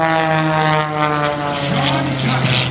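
A propeller aerobatic airplane at an air show recovers from a flat spin, its engine a loud, steady, harmonic drone with slowly shifting pitch that dominates throughout, with a commentator's voice faintly beneath it.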